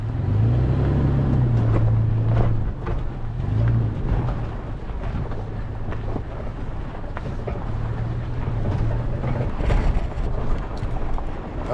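A Toyota FJ Cruiser crawls over rocks in two-wheel drive low range with traction control off, its engine a steady low drone with wind buffeting the microphone and occasional bumps and knocks throughout.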